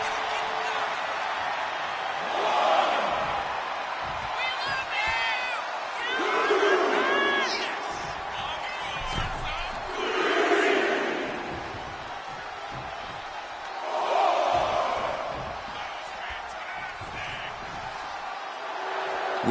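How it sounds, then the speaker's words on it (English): An arena crowd in the WWE 2K25 wrestling video game cheers in repeated rising swells between impacts and thuds in the ring, with a commentator talking over the roar. "Cargill drawing a big reaction from the crowd."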